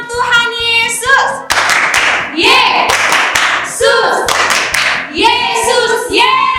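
Children clap in rhythmic bursts during an online children's church worship service, loud and close, with sung and spoken voices between and over the claps.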